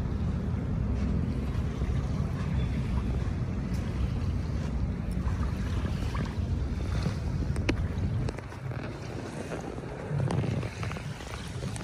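Morning sea at Manila Bay, a continuous low rumble of waves and water with gusty wind buffeting the microphone, steady and fairly loud, with no talking.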